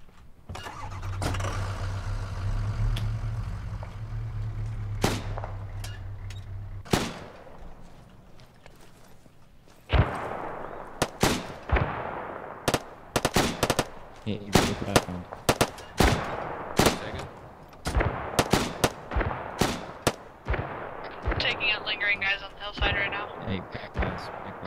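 Gunfire rattles through a firefight in the military shooter ArmA 3 during a Humvee ambush, with a vehicle engine idling at first, then sharp, loud shots and bursts cracking irregularly, some close and some distant, while players talk over the radio.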